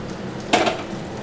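Chopped green chillies hit hot oil in a frying pan with one short, close burst of sizzle and scraping over a steady background hiss.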